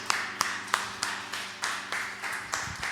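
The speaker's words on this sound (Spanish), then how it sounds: "Pueden darle palmas a nuestro Dios." A church congregation claps for God, sharp hand claps in a slowing, fading series of about eight beats inside a resonant hall.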